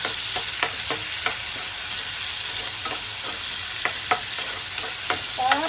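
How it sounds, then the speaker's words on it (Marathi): Tomatoes fried and stirred in a pan for a fish curry: a steady close sizzle runs throughout, broken by repeated scraping strokes of a spatula against the pan. "टॅमॅटो परततानाच मी त्याच्यात मिक्स करत आहे कारण मी टॅमॅटो पटकन शिजला जातो"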